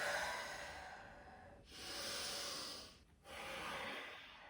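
Close, rhythmic breathing through the nose with mouth closed during a flowing forward-and-back movement exercise: three long, airy breaths, each a few seconds long, separated by brief pauses.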